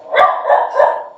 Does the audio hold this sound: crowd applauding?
no